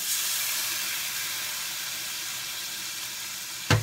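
Cognac poured into a hot pan of filet mignon with green peppercorn sauce hisses in a steady, close sizzle, ending in a brief sharp crackle.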